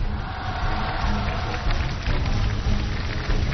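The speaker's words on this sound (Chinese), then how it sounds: "鼓掌， 鼓掌。" Dense, steady applause from an audience at a shuttlecock-kicking performance in Luanping, Hebei. The sound is close and continuous, with crackling clapping that swells slightly in places.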